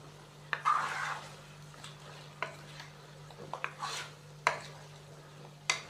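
Chicken and potatoes being stirred and fried in a pot, with a few distinct scraping clinks of a utensil against the metal over a soft, steady sizzle; no talking.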